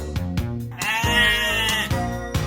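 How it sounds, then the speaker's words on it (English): A goat bleats in a long wavering cry over a bouncy children's song backing track with plucked, rhythmic music continuing beneath it. "Goat."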